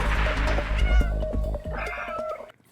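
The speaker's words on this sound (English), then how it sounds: "Stray does have a dedicated meow button, and the cat will occasionally yowl when it's hurt." A cat in the video game Stray meows and yowls in a string of close, loud, drawn-out cries that fade out at the end, with no talking.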